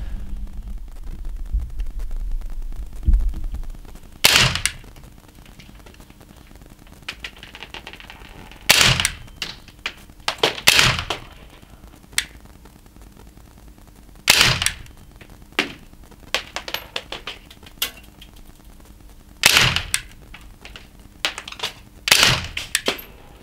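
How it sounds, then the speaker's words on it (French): Umarex Race Gun CO2 pistol firing 4.5mm pellets at a target 9 m away, a series of sharp, loud single cracks spaced a few seconds apart, some in quick pairs, with faint clicks between and no talk. "On attaque le tir de précision à 9 mètres avec le point rouge."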